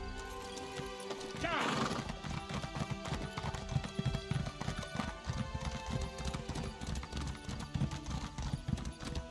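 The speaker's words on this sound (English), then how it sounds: "Horse." A horse in The Elder Scrolls Online whinnies once near the start, then its hooves clop in a quick, steady rhythm over layered game music and ambience.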